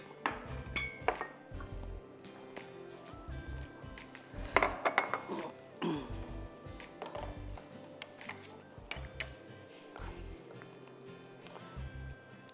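Carrot ginger soup ladled out in a kitchen, with frequent clinking of dishes, metal utensils and glass against bowls, fairly close and busy throughout.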